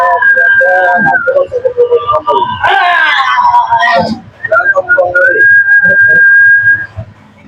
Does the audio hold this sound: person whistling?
yes